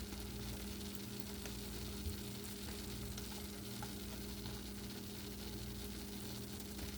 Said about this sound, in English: So people like to scramble eggs funny.